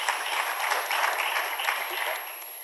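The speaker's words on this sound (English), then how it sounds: "Let's give them a round of applause." Steady applause from a crowd at a public hearing on wildfire recovery, dense clapping that holds for a couple of seconds and then begins to ease off.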